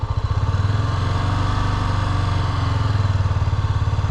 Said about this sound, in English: I'm holding the revs right at about 2000 RPM